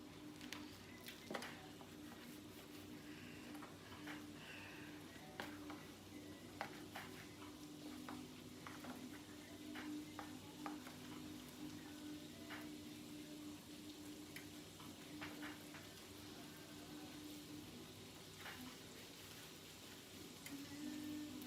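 Pork chops frying in a pan of oil make a quiet, continuous sizzle with soft crackles and occasional faint clicks, low and steady throughout with no talking.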